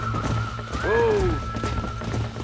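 A horse in the Red Dead Redemption video game gives one loud, close whinny with hoof clip-clops, over a steady game ambience.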